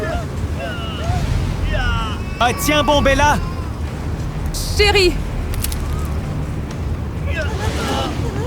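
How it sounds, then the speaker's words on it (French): Strong animated wind rushes and roars steadily beneath frantic character voices, which cry out over the gusts. "le vent est vraiment fort!"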